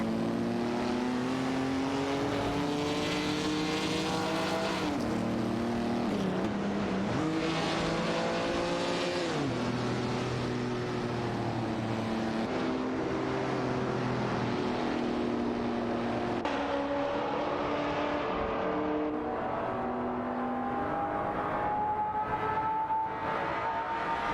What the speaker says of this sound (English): All cars are pushing their limits as they head into the next lap.